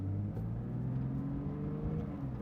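A Porsche GT3 engine rises in a steady, low rev as the car pulls away in first gear, a continuous droning hum heard from inside the car with no talking.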